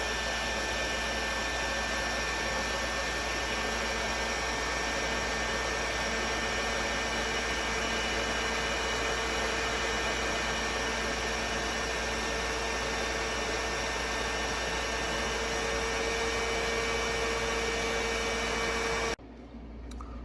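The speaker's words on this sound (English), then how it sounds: "get yourself a nice heat gun. Like I got this nice DeWalt one" A DeWalt heat gun blows continuously while shrinking a heat-shrink boot on a battery cable, a steady airy hum that runs unbroken for about nineteen seconds before cutting off.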